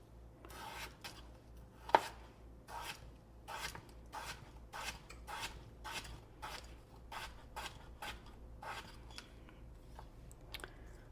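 Peeled potatoes are sliced thinly with a knife, each cut landing as a soft, regular tap on the board in an even rhythm, quiet and close, with no voices.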